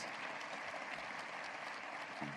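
Steady applause from an audience at a university State of the University address, a continuous wash of many hands clapping, fairly faint and even throughout.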